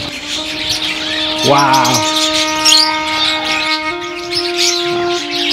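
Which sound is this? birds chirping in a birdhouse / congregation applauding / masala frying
birds chirping in a birdhouse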